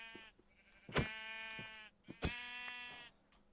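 Minecraft sheep bleat in two drawn-out, nasal calls with short clicks around them, close and clear, with no talking.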